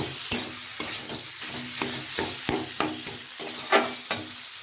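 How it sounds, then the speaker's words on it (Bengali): Boiled potatoes frying in a pan for a Bengali fish fry, with a steady close sizzle and regular scrapes and taps of a spatula stirring them, no voices. "এবার আমি আলুটাকে ভালো করে ভেজে নেব।"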